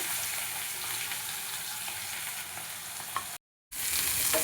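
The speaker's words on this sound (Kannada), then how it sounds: "ಒಂದೆರಡು ಚಕ್ಕೆ ತೊಗೊಂಡಿದ್ನಲ್ಲ ಅದು ಮತ್ತು ಪಲಾವ್ ಎಲೆ ಮತ್ತು ಈರುಳ್ಳಿ ಹಾಕಿ ಫ್ರೈ ಮಾಡ್ಕೊತಾ ಇದ್ದೀನಿ" Onions fry with cinnamon and bay leaf in a kadai, giving a steady, hissing sizzle up close that cuts out briefly near the end before resuming.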